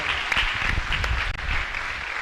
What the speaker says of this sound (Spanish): Fuerte aplauso entonces para Cristo con este nombre tan interesante